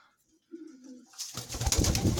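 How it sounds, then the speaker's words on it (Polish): Soft, low cooing of young pigeons close by, then a burst of flapping and rustling movement takes over the second half. "Nie będę teraz straszył tych gołębi."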